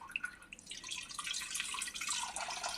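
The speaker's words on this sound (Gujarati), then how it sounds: "આ રીતે 2-3 પાણીથી ધોઈ લેવાનું છે" Water running over homemade paneer made from leftover buttermilk as it is rinsed, with a quiet trickle and splash that builds into a steady flow.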